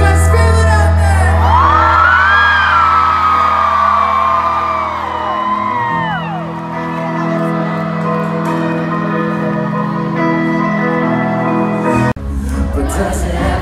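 Screaming and cheering crowd at a concert in Grand Rapids, with loud high-pitched whoops swelling over amplified music, easing after about six seconds and leaving a sustained roar under the band.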